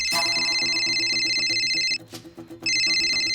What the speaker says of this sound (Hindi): फोन उठा उसका।